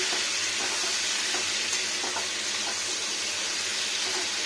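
Mixed vegetables with cauliflower and potato fry in a pan while being stirred, giving a loud, continuous sizzle with faint scraping throughout.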